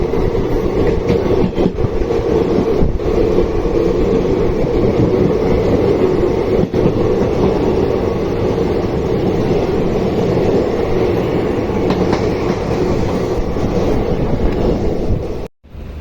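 The Wodeyar Superfast Express runs at speed toward KSR Bengaluru, heard from inside as a loud, continuous low rumble and rattle of the carriage with wind rush, a few sharp clacks, ending abruptly.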